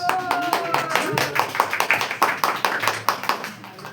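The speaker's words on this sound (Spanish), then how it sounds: "Un aplauso para ustedes." A small church audience gives a brief round of hand clapping, the individual claps distinct and close in an uneven rhythm, while voices talk over them throughout.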